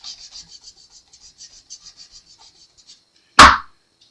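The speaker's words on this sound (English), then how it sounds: "This is really about taking off the remaining scratches and abrasions that we put on the tops of the frets and the ends, right? Where now we're just polishing." Guitar frets on an Epiphone Flying V being polished by hand: a steady series of soft, rhythmic rubbing strokes for about three seconds, then a single loud, sharp knock.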